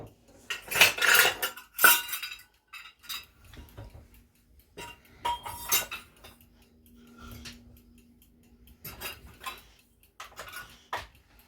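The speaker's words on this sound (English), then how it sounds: "So into the bowl goes 2 cups of oats" Two cups of dry rolled oats poured into a mixing bowl while making cookies, a dense rustling rush with clinks of a measuring cup against the bowl, followed by quieter scattered scraping and tapping.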